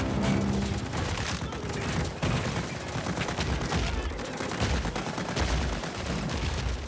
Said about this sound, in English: We have about 660 bullet hits that we're syncing up with the camera for this shot.